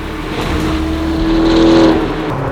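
McLaren P1 engine in race mode revving hard under acceleration on an open road, a loud continuous roar with a rising whine that builds toward the end and then eases off.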